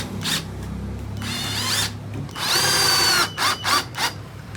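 A power drill drives 1-inch screws into an aluminium face mirror frame with wood, in several loud whirring bursts of varying length separated by short pauses, with no talk.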